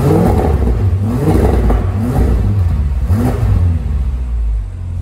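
Loud, sustained exhaust roar from a 2016 Audi RS7 Sportback (4G8/C7) with a catless Fi Valvetronic exhaust, valves open, as the engine revs up and down in repeated surges close by, with no talking.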